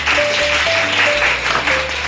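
Dinner guests applaud a freshly presented kurnik pie, a brief burst of dense clapping heard over background music with sustained tones.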